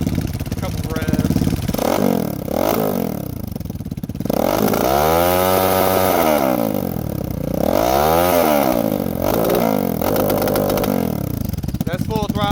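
Untuned Lifan KP Mini 300 motorcycle engine, 4-valve ZS175FMN, revved hard to full throttle several times, pitch sweeping up and falling back between loud close bursts.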